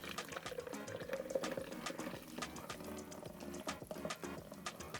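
An egg mixture for crème caramel trickles and splashes as it is strained through a sieve, a steady wet pouring with small clinks, close and fairly quiet.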